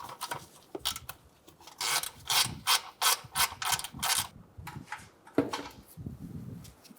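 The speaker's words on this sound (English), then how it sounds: "Using a 10mm, let's take out these nuts." Ratchet with a 10mm socket loosening nuts on a Buick Encore, a run of quick close clicking rasps in rapid bursts, fairly quiet, with a few thuds of handling at the end.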